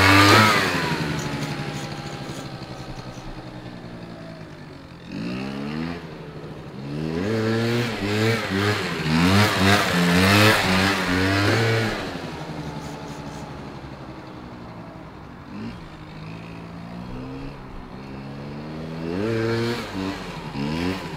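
Several motorcycles revving hard while doing wheelies, with repeated rising and falling engine sweeps that pass near and fade, loud and continuous with no talking.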